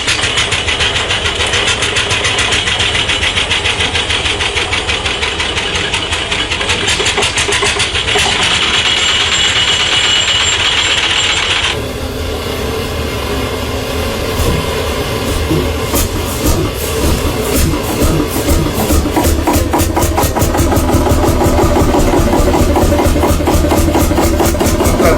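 A diesel tractor engine runs loud and steady, shifting partway through into a harsher, rapidly knocking idle that continues without pause; no one speaks.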